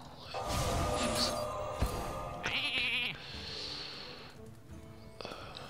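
A sheep bleat from a card played in Hearthstone arena mode, a short wavering cry over busy game music and interface effects, with no talking.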